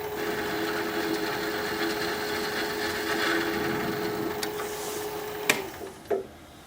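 A wood lathe spins at about 500 RPM with a turning tool pressed into the workpiece, a steady whirring hum throughout with a few short clicks and knocks near the end.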